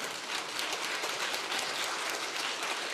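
A church congregation claps together in a dense, steady wash of applause that holds evenly throughout, fairly close and with no talk over it.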